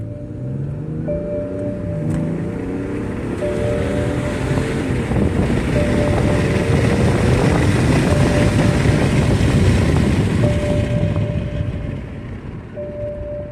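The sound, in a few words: BMW 535 engine accelerating under high boost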